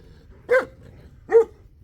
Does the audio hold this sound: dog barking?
yes